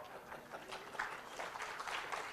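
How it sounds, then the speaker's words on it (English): An audience at a business session on retail applauds, a steady wash of many hands clapping at moderate distance, sustained throughout with no talk over it. "We like to hear some applause also whenever we talk."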